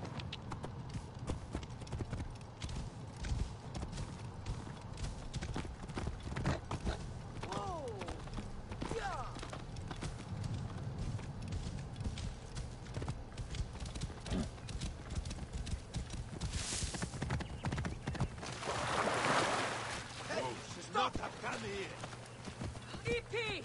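Horses galloping in the Assassin's Creed Origins video game, a steady rapid clip-clop of hooves with a whinny near the end, running under intermittent game dialogue and music.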